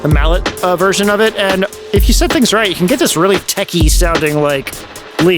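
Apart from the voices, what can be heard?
No distinct noise like a dog, phone or traffic.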